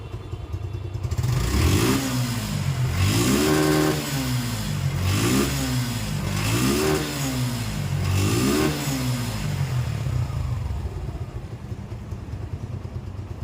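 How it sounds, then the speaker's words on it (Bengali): Close by, a 2024 Suzuki Gixxer Monotone motorcycle engine is repeatedly revved, four or five even throttle swells over a steady idle, then easing back to a lower, rough-edged idle, with no speech. "আপনারা এই বাইকটি সাউন্ড শুনছেন"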